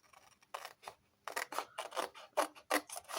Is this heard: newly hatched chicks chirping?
no